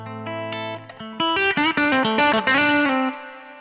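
A 1957 Les Paul Goldtop electric guitar through a Fender-style amp setting plays a clean-to-edgy melodic phrase: held low notes first, then a run of quick picked notes with slight reverb, close and alone without speech.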